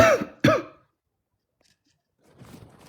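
Two sharp coughs in quick succession, close and loud, followed by silence and then faint rustling.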